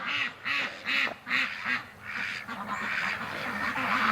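Ducks quack in a rapid rhythmic series, several loud nasal calls close by, followed by a more overlapping flurry of agitated quacking.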